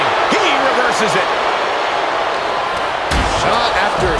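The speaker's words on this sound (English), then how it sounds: "Shot after shot, then slamming their face down." A wrestler slams an opponent's face down into the ring during a tornado-style triple threat tag team match, landing as a single loud, heavy thud late in the moment over steady arena crowd roar, with a commentator's voice talking beforehand.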